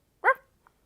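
A child imitates a dog with a single short, sharp "woof" bark, close and clear, followed by a tiny faint sound and then silence.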